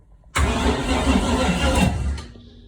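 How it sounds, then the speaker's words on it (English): A single-turbo LS engine in a G-body car cranks over for the first time in years: after a brief quiet moment a loud, close, continuous starter-and-engine churn starts and runs about two seconds before fading. "she cranks over for the first time in probably 4 years"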